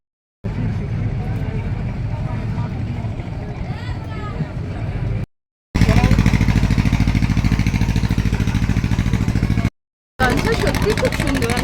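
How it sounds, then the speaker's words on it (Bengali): A motor launch ferry's engine drones steadily at a river crossing, a loud low rumble with faint voices in the background, cut by brief gaps of silence. "এখানে লঞ্চ একটা ছেড়ে দিল দেখতে পাচ্ছি"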